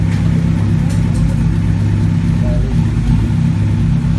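A Kawasaki Z900 motorcycle engine runs after starting, a steady, close, low rumbling idle throughout, with a voice talking over it.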